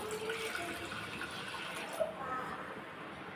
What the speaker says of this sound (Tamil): இதில் ஒரு ரெண்டு கப் தண்ணி சேர்த்துடலாம்